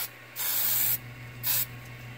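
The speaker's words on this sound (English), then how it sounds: "I definitely want to spray this with a little bit of hairspray," Hairspray sprayed onto a 3D printer bed in two bursts, a long hissing spray and then a shorter one, close and fairly loud over a steady low printer hum.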